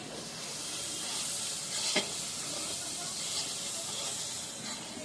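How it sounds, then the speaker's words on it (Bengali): Mutton cooking in a pan in a home kitchen, a steady broadband sizzle and hiss of frying with one sharp stir or scrape partway through, heard close and continuous. "কুট্টু মামা মাটন রান্না করছে"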